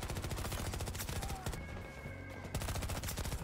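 SMG fire in Battlefield 2042: rapid, loud bursts of automatic shots in a fast, even rhythm, broken by a brief pause before the firing resumes.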